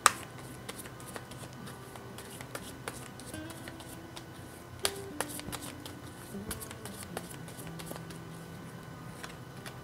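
Tarot cards are shuffled softly and handled close by, giving quiet riffles, light taps and flicks scattered across a low, hushed background.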